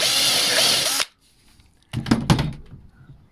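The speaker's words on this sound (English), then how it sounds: "I'll drill another one and countersink it" Power drill boring a countersink hole while refinishing a hospital bed headboard and footboard mounts: a loud, steady whine for about a second, a pause, then a rough burst of drilling with knocks.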